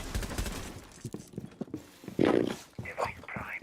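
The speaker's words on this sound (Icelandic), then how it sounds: "ég heyri einhverju byssuskoti hérna." Gunfire in a tactical shooter video game: scattered shots under faint voices, then a loud, close burst of fire partway through, followed by further sharp bursts.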